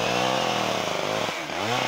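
Chainsaw cutting willow branches outdoors, a loud, close, steady engine whine that bogs and shifts pitch near the end as the chain works through the wood.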